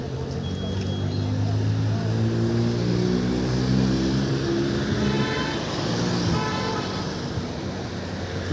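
A car identified by registration KJ3257, its engine giving a steady, close humming drone with a tonal whine that holds at a fairly even level throughout rather than swelling and fading.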